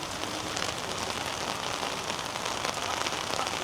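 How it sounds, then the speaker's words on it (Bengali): Steady rain patters densely on a surface during a sunshower, a constant even hiss of drops with no voices. "তাও কী লেভেলের বৃষ্টি হইতেছে"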